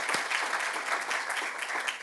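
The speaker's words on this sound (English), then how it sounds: "can I ask actually the room for a round of applause for Mike" A conference room audience at a symposium claps in a steady, dense round of applause that stays close and even from start to finish.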